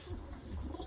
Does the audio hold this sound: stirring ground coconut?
no